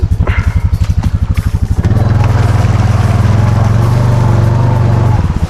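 A snorkeled Honda Foreman ATV engine idles close by with a steady low throb, first in rapid pulses and then settling into a louder continuous rumble that runs to the end before easing off.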